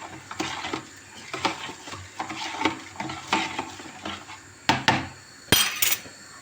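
Utensil stirring food in a pot, a series of irregular scraping and clinking knocks against the metal at close range, with a couple of sharper clanks toward the end.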